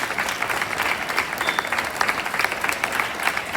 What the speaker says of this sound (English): Give a big hand clap.